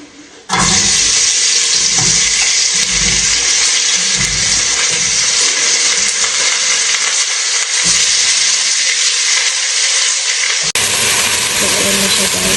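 Onions frying in hot oil in a home kitchen pan, giving a loud, steady, hissing sizzle that starts abruptly and holds throughout, with a brief change near the end.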